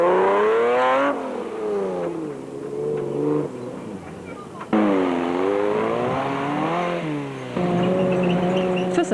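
Toyota Hilux rally truck at the start of the Stokkiesdraai 200 off-road race, engine revving hard through rising and falling gear pulls, loud and close, with a commentator talking over it.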